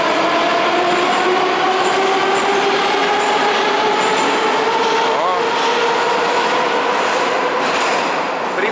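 A metro train rumbles past on a spare track in an underground station, a continuous loud roar with rising and falling wheel tones and squeals throughout, close and steady for the whole stretch.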